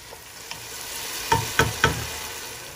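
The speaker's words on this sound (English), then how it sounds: "mix chilies with onion and tomato" Chillies being stirred with onion and tomato in a hot pan make a soft sizzle, broken by three quick, louder scraping strokes of the spoon near the end.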